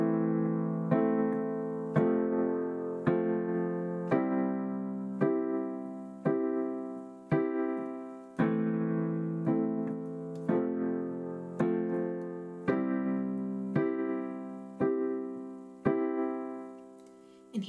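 Solo piano plays the verse chord pattern of a worship song: the left hand plays root and fifth while the right hand strikes repeated blocked chords in a steady rhythm, with no voices.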